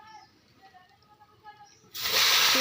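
Washed taro leaves drop into a hot wok and burst into a loud, broad sizzle that holds steady, after a quieter stretch of faint kitchen sounds and soft background voices.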